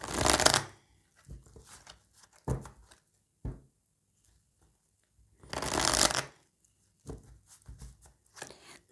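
A deck of oracle cards is shuffled and cut in several short riffling bursts, two long and a few brief taps, alone and close, with quiet pauses between.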